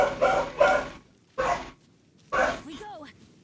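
Several dogs bark in short separate bursts, about four loud barks with gaps between, ending in a thin high whine or yelp, fairly close and with no talk over them.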